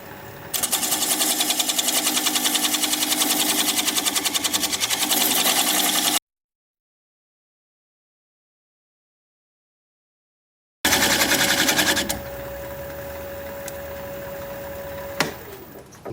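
A wood lathe spins at about 600 RPM while a tenon is cut away on a cracked turning, giving a steady, loud mechanical whir that stops abruptly, leaves silence, then starts again at a slightly lower level.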